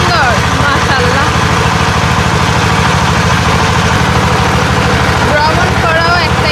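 A boat engine runs steadily and loudly with a low, pulsing drone on a trip toward a river of white stones between hills, while voices chatter in the background.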